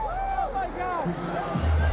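Wrestling arena crowd cheering and buzzing from a played-back match clip, a steady roar of many voices with some louder swells.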